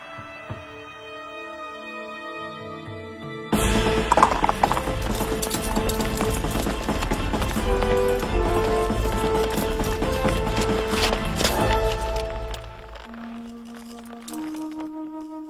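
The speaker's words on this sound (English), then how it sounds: "They went off with the donkey, didn't they, Wendy?" Hooves clip-clop in a steady trotting rhythm as a donkey moves off, louder at first and then fading, layered over orchestral music in a children's animated story.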